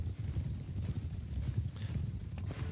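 Cavalry horses gallop across a medieval battlefield in Mount and Blade 2 Bannerlord, a low, continuous drumming of hooves that sounds somewhat distant and muffled and runs without a break.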